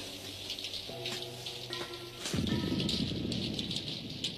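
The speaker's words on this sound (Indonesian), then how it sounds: "Di luar hujan." Rain falling outside, a steady soft hiss of drops that swells and thickens partway through, heard behind faint sustained tones of background music with no talking.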